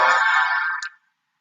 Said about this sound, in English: Oh, I'm ringing my phone.